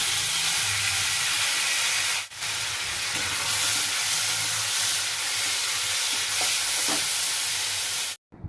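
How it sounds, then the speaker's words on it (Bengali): Dried red chilies, black mustard seeds and a three-spice tempering of fenugreek, fennel and nigella frying in hot mustard oil, a steady close sizzling hiss that runs throughout with a brief break early on and a sharp cut near the end. "ওদিকে সর্ষের তেলের মধ্যে 2টো শুকনো লঙ্কা দিলাম, আর অল্প একটু কালো সর্ষে দিলাম"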